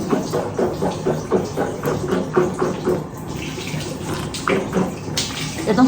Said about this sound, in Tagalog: Maingay, no? Washing machine yun.